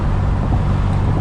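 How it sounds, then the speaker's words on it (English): A 1994 Ferrari 348 Spider cruises in fifth gear with the windows up, producing a steady low engine drone mixed with wind noise. "We're in 5th gear, just cruising"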